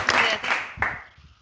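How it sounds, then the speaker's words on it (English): Brief applause during a polytechnic impromptu speaking competition: a few bursts of clapping from a small audience that quickly fade out. "A round of applause."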